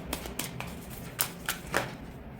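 Tarot cards being shuffled and drawn from a pile, giving a few soft, brief papery flicks and slaps spaced apart over a low background hum, close and fairly quiet.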